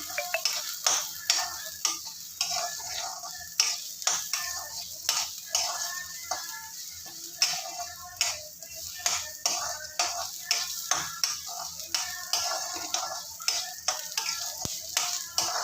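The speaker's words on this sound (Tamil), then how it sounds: "பாருங்கள் நல்லா வறுபட்டுரும் பாருங்கள் பொறிஞ்சு வறுபட்டுரும்" Urad dal and pirandai roasting in a pan at home, a steady dry sizzle broken by frequent sharp crackles and pops with scraping stirs, fairly close and continuous without speech.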